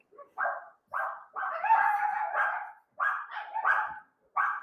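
Several dogs bark in quick bursts, one run of overlapping barks in the middle, fairly close with brief gaps and no talking.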